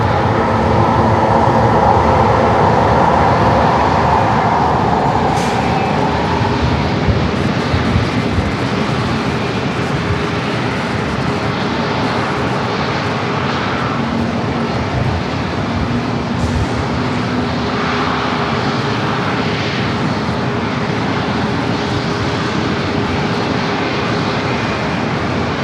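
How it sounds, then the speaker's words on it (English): An Alaska Airlines Boeing 737-800 arriving from Denver at San Diego airport roars loudly and steadily for the whole stretch. The broad jet rumble and whine stay close and constant, with no voices. "Next arrival is a flight coming from Denver, Alaska, flight 1318, a 737-800"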